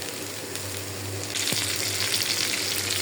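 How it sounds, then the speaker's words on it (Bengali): Fish frying in a pan of oil, a close, loud crackling sizzle that swells stronger partway through, with a faint clink, and nobody speaking. "এদিকে মাছটা ভেজে নিলাম"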